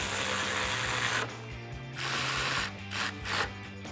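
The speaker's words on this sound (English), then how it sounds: "Grab a 10mm socket and tighten these down." A ratchet with a 10mm socket tightens bolts on an off-road front bumper on a 2019-2020 Chevrolet Silverado 1500, rapid close clicking in several steady runs with brief pauses.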